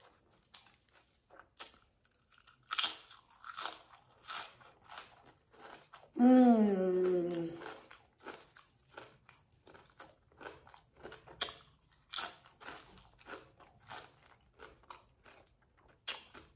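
Crunchy fish sandwich dipped in sauce being bitten and chewed close to the mic, with a run of crisp bites and mouth noises spread across the clip and one loud burst of voice in the middle.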